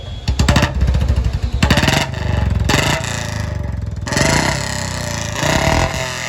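A Royal Enfield Bullet motorcycle engine runs up close during servicing, a loud, steady thumping idle with irregular revving bursts and pulsing throughout.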